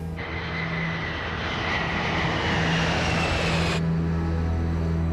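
An airliner taxis slowly on the runway, its jet engines giving a loud, steady roar with a sustained whine that holds level before the higher hiss drops away near the end.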